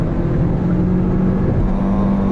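A 2021 Hyundai Kona facelift with a dual-clutch gearbox accelerates in sport mode, its engine giving a steady, loud, rising drone with road noise inside the cabin and no talking.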